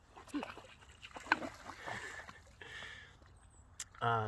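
A dog makes brief whimpering and barking sounds among indoor rustling and footsteps, ending with a louder close bark.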